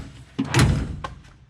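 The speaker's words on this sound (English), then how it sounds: "I've just sat the drawer in there, so" A storage drawer is set into a new ute tray canopy during a fit-out, giving a couple of close, hollow thuds and bumps with a shorter knock afterward, loud and alone.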